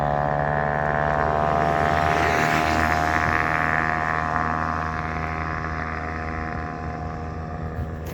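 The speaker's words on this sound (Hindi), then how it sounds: "क्या साउंड है ना यार इसका, पूरा थ्रोटल साउंड है यार।" A Bajaj Pulsar 150 motorcycle exhaust held at full throttle gives a loud, steady, high-pitched engine drone that stays near and continuous throughout, easing slightly toward the end.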